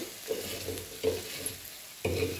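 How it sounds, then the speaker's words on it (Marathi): Hot green chillies being crushed and pressed in a griddle pan, with three distinct bursts of scraping and sizzle roughly a second apart over a soft background frying hiss. "ही मिरची आपल्याला आता तव्यातच रगडून घ्यायची आहे."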